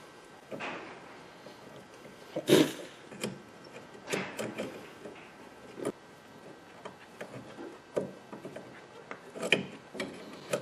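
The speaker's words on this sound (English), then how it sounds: "Now I gotta see if using the pliers can straighten it." Pliers bending and straightening a tie rod end part on a Chrysler 300M, heard as scattered metallic clicks, scrapes and creaks up close, with irregular sharp bursts and no talk.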